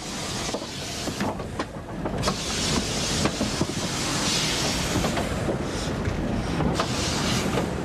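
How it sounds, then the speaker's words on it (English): LNER A3 steam locomotive 4472 Flying Scotsman backing slowly under signal gantries on the southern approach to Aberdeen station, a steady broad rumble with scattered clanks and hisses, fairly close and continuous, no voices. "4472 Flying Scotsman backs under Aberdeen's magnificent gantries on the station's southern approach"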